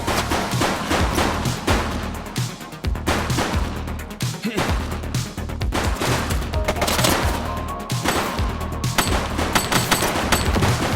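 Rapid bursts of gunfire in the police game The Precinct, with dense overlapping shots and loud volleys running nearly continuously, with no voices.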